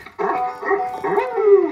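A dog barks and yips three times in quick succession, close and fairly loud, with a whiny, vocal quality.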